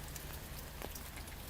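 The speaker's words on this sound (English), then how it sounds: "Oh, look at the raindrops." Raindrops fall outdoors at the Hobbiton gateway in New Zealand, a faint, steady patter of drops with a few slightly sharper taps and no voices.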